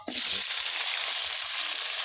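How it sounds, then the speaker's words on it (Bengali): Green chillies and onions frying in hot oil, a loud, dense, continuous sizzle that hisses on steadily from the first instant, close by, with no voices. "লাল লাল করে কাঁচামরিচ পেঁয়াজ ভাজা হয়েছে"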